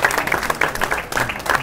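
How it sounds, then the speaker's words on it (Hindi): Audience applause with steady clapping from a crowd at a televised Pakistani election-results discussion show, dense and continuous throughout at moderate loudness with no talk over it. "और आप मेरे भी तालियां बजाओ।"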